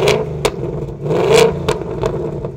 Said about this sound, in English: here's a clip of a Mustang that does use the H-pipe on your stock Mustang exhaust